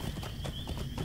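Horse hooves gallop in the Lord of the Rings Online video game, a quick, steady clip-clop rhythm of hoof falls heard close and fairly loud.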